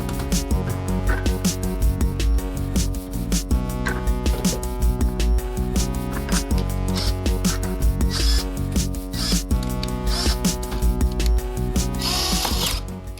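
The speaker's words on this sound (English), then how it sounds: "I don't want you to sit here all day and watch me drill a lock" A power drill grinds into the lock cylinder of a classroom door, whining loudly and steadily throughout under dense clatter and vibration, with no talking.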